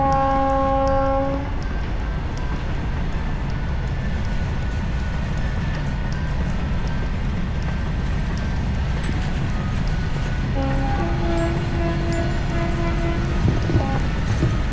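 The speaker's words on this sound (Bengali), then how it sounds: "এই দেখুন এই যে ট্রেন যাচ্ছে" A train rolls steadily past right beside the track near a village, a loud continuous rumble and clatter. Its horn blares twice, first at the start and again with longer, repeated blasts toward the end.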